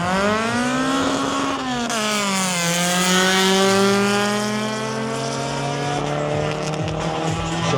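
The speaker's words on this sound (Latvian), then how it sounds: "Dzirdēsies mašīnu." A red Mazda 626 drag racing car at a drag racing event in Latvia roars loudly and steadily at high revs, the engine pitch shifting as it accelerates, heard close and alone without any talk.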